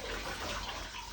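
A soiled baby cloth is dunked into a bucket of water, giving a steady close-up sloshing and splashing wash of water that lasts about a second with no voices.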